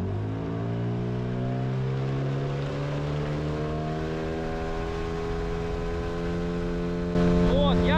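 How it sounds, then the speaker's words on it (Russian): Two HDPE motorboats with identical motors run side by side on the water, a loud, steady, overlapping engine drone with a layered harmonic whine that shifts and rises near the end. "Друзья, пробуем одновременно стартануть. Моторы одинаковые."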